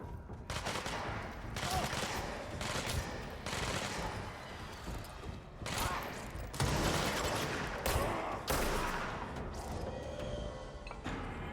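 Enemy shotgun fire in the video game Control rings out in repeated heavy blasts at irregular intervals over a dense background of combat noise, loud and close throughout, with little or no talk.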